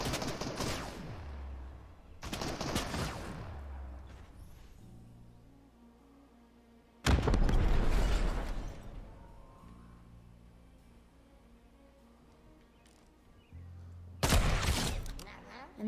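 Loud bursts of automatic gunfire in a Fortnite match crack out in three or four separate volleys, with quieter game sounds and faint mechanical noise between them.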